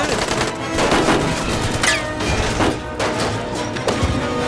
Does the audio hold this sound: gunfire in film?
yes